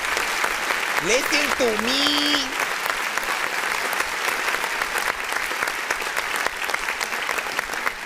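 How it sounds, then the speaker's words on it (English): Clapping on an independent-artist music review show, brisk and continuous throughout, with a voice speaking briefly over the first couple of seconds. "Let me give a clap for that."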